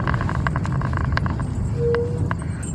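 Road traffic jam near Kalyan, Mumbai, with a steady close car engine rumble and road noise throughout, a brief higher tone partway through, no clear talk.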